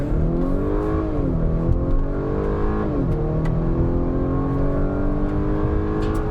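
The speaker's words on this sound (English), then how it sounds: "Quick little 0 to 60 time." A 2025 Acura RDX A-Spec engine revs hard accelerating from 0 to 60 through rising gear pulls, pitch climbing then dropping at each shift, steady and close with road and wind noise.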